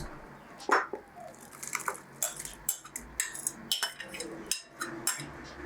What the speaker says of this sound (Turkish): Şimdi bütün malzemelerimizi karıştırıyoruz.